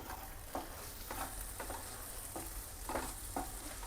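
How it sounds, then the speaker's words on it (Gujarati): Paneer bhurji cooked in oil and ghee with kasuri methi sizzles steadily in a pan, with a few distinct scraping stirs of the spoon over the constant frying hiss. "તો આપણે એકવાર હલાવી લઈએ."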